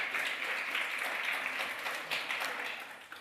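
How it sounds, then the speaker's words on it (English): A room full of attendees at a noon talk on justice and faith at Hartford's first Black church bursts into steady applause, a dense crackle of many hands that fades slightly toward the end. "Let's give them a round of applause."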